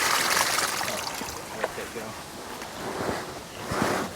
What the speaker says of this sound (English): There's a bunch of water coming down.